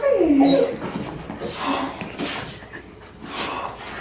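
A happy dog whimpers and yips up close in high, wavering whines, with snorts and excited breathing following, at a welcome home after a military graduation.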